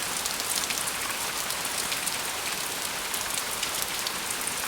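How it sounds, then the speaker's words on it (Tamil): Heavy rain pours down at night in a cartoon scene, a dense, constant hiss of drops striking surfaces with no pauses, loud and even throughout, and no voices. "அன்னைக்கு ராத்திரி மழை ரொம்ப ஜோரா பெஞ்சுக்கிட்டு இருந்துச்சு."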